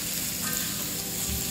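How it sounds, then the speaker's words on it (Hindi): Onions fry in a pan for a black chana masala curry, giving a steady, close sizzle throughout with no voices. "सो हमारा यहाँ पे अनियंस फ्राई हो रहा है"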